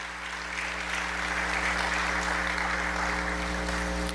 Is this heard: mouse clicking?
no